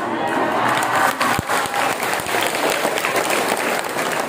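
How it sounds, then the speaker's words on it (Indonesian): A large gathering bursts into loud, continuous applause, thick overlapping clapping with a few sharper claps standing out, holding steady throughout. "Tidak usah tepuk tangan di sana,"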